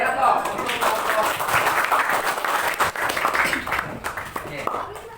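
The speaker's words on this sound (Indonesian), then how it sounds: "beri aplaus untuk kelompok" Steady applause from a group seated in a classroom-style teacher performance exam session, many hands clapping loudly and continuously throughout, with some voices mixed in.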